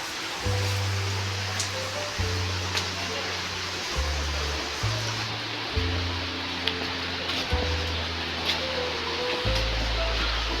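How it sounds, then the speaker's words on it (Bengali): Broad, steady rush of a Meghalaya waterfall splashing down, with a low droning hum and occasional faint tones over the continuous roar. "ওপর থেকে ঝর্ণার জল আমাদের মাথায় পড়ছে।"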